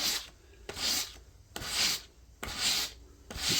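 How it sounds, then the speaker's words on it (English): Hand sanding of edge banding with 220 grit sandpaper, four steady back-and-forth strokes with a dry, rasping rub, close up and rhythmic with brief pauses between passes. "all I'm going to do is just sand it, coming back this way"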